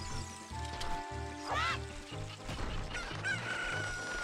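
A chicken clucks and crows in a busy multiplayer video game, the calls rising briefly above dense game music and effects.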